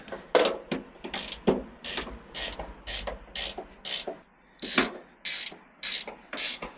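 Ratchet clicking in short repeated bursts, about a dozen rapid strokes, as a 3/8 inch stainless hex bolt with a washer is tightened through a plastic channel nut on the foot of a mini split outdoor unit.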